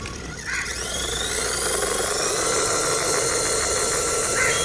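An MJX H18P RC crawler runs in dig mode with its rear wheels locked, clawing at hard red-earth ground; its small electric motor gives a steady, close, high-pitched whine and grind that holds on without a break.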